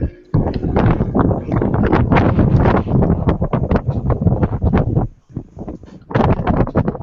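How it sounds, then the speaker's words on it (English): A strong windstorm roars and buffets the microphone in loud, continuous gusts, easing briefly before surging again. "There is a windstorm sounds"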